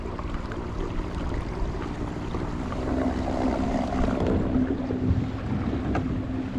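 A small outboard motor fitted to a fishing kayak runs wide open at full throttle on the water, a steady loud drone with constant wind rush over the microphone throughout.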